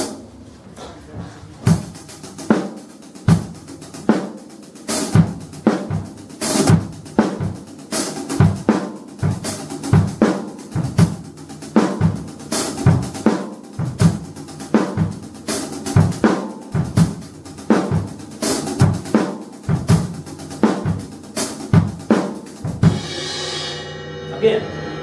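A drum kit at a drum clinic plays a 9/8 triplet pattern, with sharp, evenly spaced drum hits and crashes falling in a steady repeating rhythm for about twenty seconds before a cymbal rings out at the end.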